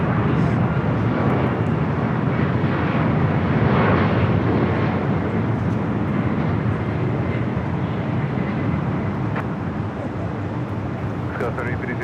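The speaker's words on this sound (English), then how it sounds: "Our next arrival, 24 right, Alaska Airlines 1316 coming in from Seattle on the 737-900 ER." An Alaska Airlines Boeing 737-900ER arriving from Seattle lands on runway 24 right at LAX, heard as a steady, loud broadband jet roar that holds for the full twelve seconds without fading.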